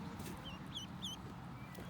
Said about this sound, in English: He loves seeing his new ducks.